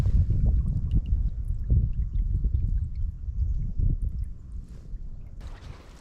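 A canoe paddled hard on a northern lake, Lake Tiilikka, with steady low splashing and water sloshing against the hull throughout, close and continuous, and a brief windy hiss near the end.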